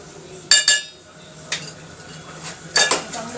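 A spoon clanks against a metal pot while dal with turmeric and red chili is stirred, giving a few sharp, close metallic clinks separated by quiet scraping.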